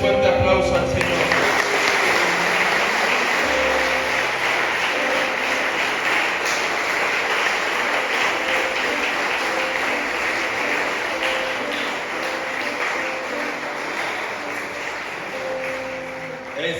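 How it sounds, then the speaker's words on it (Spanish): Church congregation applauding loudly and steadily for the whole stretch, a dense continuous wash of clapping with voices faintly mixed in beneath it. "Denle un fuerte aplauso al Señor."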